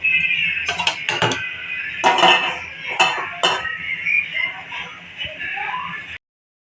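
A spoon scrapes and clinks against a bowl while onion pakodi batter is stirred with chilli and masala, repeated close metallic knocks and scraping.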